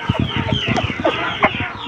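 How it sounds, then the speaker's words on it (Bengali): A white rooster clucks close by in a quick series of short, clipped calls with a couple of sharper notes, fairly loud against a busy yard background. "এই যে মোরগটা, আপনারা দেখুন সাদা মোরগটা"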